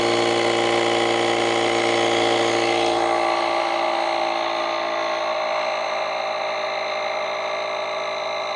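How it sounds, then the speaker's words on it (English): An Auxito A501 portable air pump inflating a tire, running as a loud, steady, close mechanical drone with a strong tonal hum that holds throughout. "let's hit that power button again, and it should start pumping."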